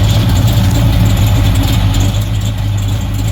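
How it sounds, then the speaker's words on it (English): A high-compression 1968 426 Hemi V8 idles with its exhaust rumbling, a loud, close, steady low throb with no talk over it. "I like the old man exhaust sound."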